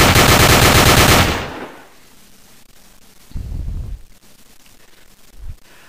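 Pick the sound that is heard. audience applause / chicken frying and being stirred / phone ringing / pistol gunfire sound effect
pistol gunfire sound effect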